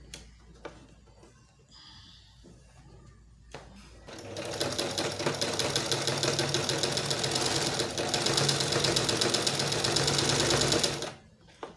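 A sewing machine stitches the seam of a corset cup. After a few quiet seconds of handling, it runs in a steady, close, rapid mechanical whir for about seven seconds before stopping.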